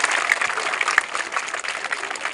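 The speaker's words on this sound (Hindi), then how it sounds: "सभी लोग करतल ध्वनि से अपनी जोर से करतल बजाएं, तालियां बजाएं जोर से।" Steady applause from a crowd of children at a school Children's Day celebration, many hands clapping together in a dense, sustained patter.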